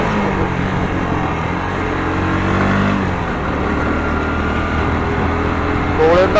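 Motorcycle engine droning steadily on a road during a bike trip from Kolkata toward Bakkhali in misty conditions, a continuous mid-pitched hum with slight throttle changes, loud and close, with someone speaking over it.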